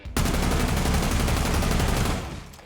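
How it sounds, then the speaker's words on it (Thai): Sustained uncontrolled full-auto gunfire spray in Rainbow Six Siege, a dense rapid burst of shots running for about two seconds before trailing off, loud and close with no talking. "เราลองยิงรัวกันบ้างดีกว่าเอาแบบลองยิงแบบไม่คุมดูนะว่ามันจะดีดขนาดไหนนะฮะ"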